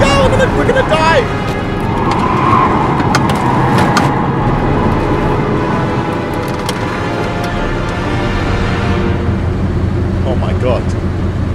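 A car engine runs loudly and steadily in a tense driving scene from the video game Heavy Rain, with road rumble throughout and voices shouting over it.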